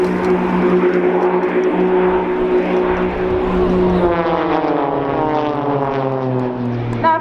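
Propeller aircraft of the Blades aerobatic team roar overhead at an air show as the pair in the middle cross a few feet apart, with a steady drone that shifts in pitch as they pass, under a commentator's voice.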